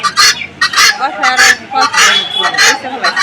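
Guinea fowl and chickens at a poultry market in Nalitabari give loud, harsh, repeated calls in quick succession, close by and continuous.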